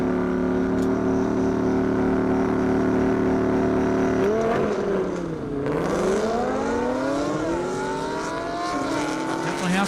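A 750-horsepower Camaro drag races down a half-mile airstrip, its loud engine droning steadily, then dipping and climbing again in pitch as it revs hard and pulls away.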